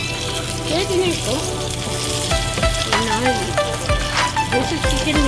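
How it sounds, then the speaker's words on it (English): Chicken meatballs fry in olive oil with garlic, a steady loud sizzle and crackle close up, with a voice talking quietly beneath it. "this is chicken meatball and frying with a little garlic and olive oil"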